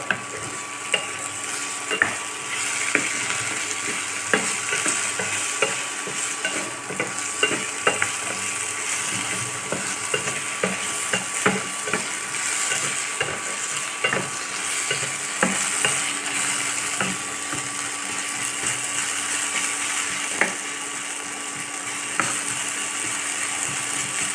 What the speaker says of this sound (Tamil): ஒரு டூ த்ரீ மினிட்ஸ் நல்லா வதக்கிட்டு